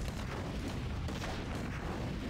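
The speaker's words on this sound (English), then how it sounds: "I do have a mortar team with me, that's why." Mortar team firing in the video game Warcraft 3: dense, rumbling booms and blasts pile up into a continuous barrage of battle noise with no speech.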